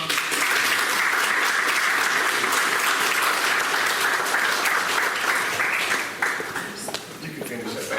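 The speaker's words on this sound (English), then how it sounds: "Let's give them a round of applause" An audience at a Geneva City Schools board meeting gives a sustained round of loud applause that thins out toward the end, when voices start up under the fading claps.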